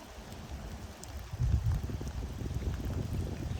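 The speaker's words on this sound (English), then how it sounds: "It's raining today." Steady rain falling outdoors by a house on a rural lot, a soft continuous patter with denser drops and low rumble swelling midway, no voices present.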